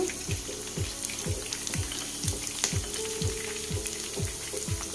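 Bitter gourd frying in oil with curry leaves gives a steady, close sizzle broken by regular scraping strokes, roughly two per second, with no voices.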